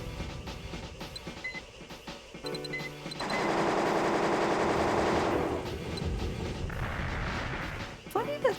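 Chain gun firing in the PS1 game Armored Core: Master of Arena, a rapid mechanical rattle of automatic fire that swells into a loud sustained burst, then continues more unevenly amid other game effects.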